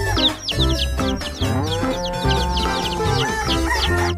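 Rooster and chickens clucking and calling in a busy, continuous stream of squawks and clucks, close and loud, with overlapping bird calls throughout.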